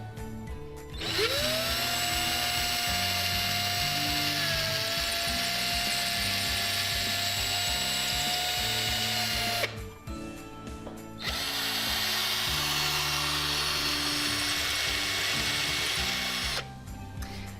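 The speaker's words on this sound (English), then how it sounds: "Make sure to enter the drill bit into the nail holes in the wall at a perpendicular angle" A power drill drives a bit into nail holes in a wall, whining loudly in two long sustained runs with a short pause between them, over steady background music.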